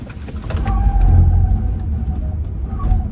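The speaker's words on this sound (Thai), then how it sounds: "นี่ผมเหยียบคันเร่งร้อยเปอร์เซ็นต์ครับ" BYD Seal electric sedan accelerating at full throttle, a close, loud whoosh of tyre and road noise swelling then easing slightly, with a faint high whine and no engine note.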